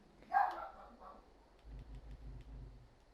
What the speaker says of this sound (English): I apologize for my dog barking there.